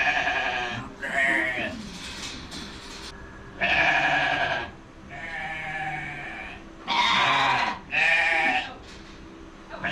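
Ram lambs bleating loudly and close, several overlapping calls in repeated bursts over a steady farmyard background.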